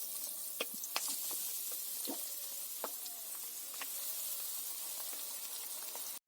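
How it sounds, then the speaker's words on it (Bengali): Potato balls frying in hot white oil in a wok, a steady close sizzle and crackle with occasional sharper pops, continuous throughout with no talking. "এবার একে একে আমি পটেটো আইসক্রিমগুলো তেলের মধ্যে দিয়ে দেবো।"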